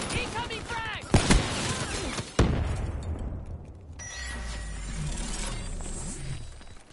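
A frag grenade explodes in Call of Duty: Black Ops 3 as a sharp boom followed by a long decaying rumble, with game voices and battle noise around it.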